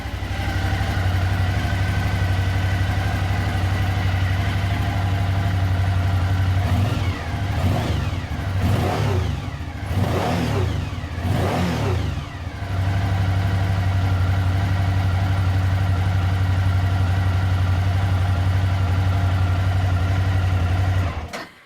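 Suzuki DL1000 V-Strom motorcycle engine idling steadily and loud up close, broken midway by several quick throttle blips that rise and fall before it settles back to a smooth idle, then cuts off at the end.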